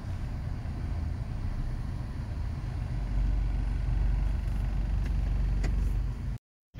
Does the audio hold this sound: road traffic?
yes